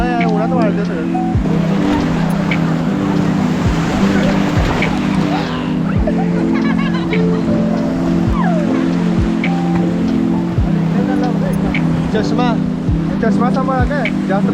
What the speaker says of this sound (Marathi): हा बोट मध्ये बसून लांब घेऊन जातात ते